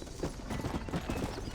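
Hooves of a horse clip-clopping in Red Dead Redemption, a fairly quiet, steady run of soft beats with ambient noise beneath.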